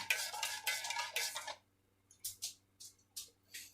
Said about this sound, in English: Give our cocoa a stir here because we never did that.